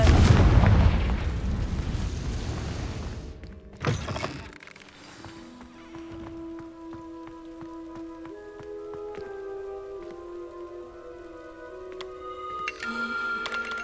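A Confringo blasting spell goes off in the Hogwarts Legacy video game: a loud, broad boom with crackling debris in the opening seconds, a second sharp burst near four seconds, then quieter musical tones and ambience.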